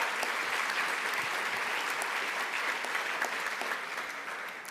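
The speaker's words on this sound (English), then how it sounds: "Another round of applause for Ms. Ball." Audience at a college convocation claps steadily in a sustained round of applause, moderately distant and dense, tapering slightly toward the end.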